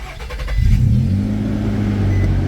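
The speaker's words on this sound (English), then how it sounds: "So now let's go turn the car on, see if the vibration's still there." A Nissan Xterra starts up after a camshaft position sensor replacement: a brief cranking whir, then the engine catches and settles into a loud, steady idle hum nearby.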